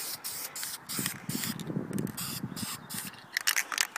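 High-heat spray paint goes onto the header, valve covers and heat shield of a Lexus ES300. Close, quick spray hisses come in uneven bursts, mixed with scraping and handling noise, and no one speaks.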